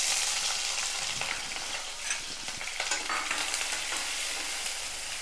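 Finely chopped small onions (shallots) sautéing in a pan for a toor dal chutney, a dense continuous sizzle with light stirring scrapes throughout, close and steady, no speech.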